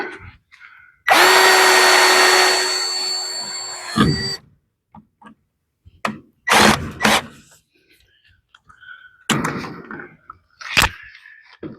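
A power drill drives fasteners into the side panel of a DIY greenhouse, close by: one long steady whir of about three seconds, then several short bursts and knocks with quiet gaps between.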